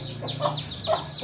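An Aseel fighting rooster gives short, close clucking calls in a quick burst of a few notes, sounding more like brief vocalizing than a full crow.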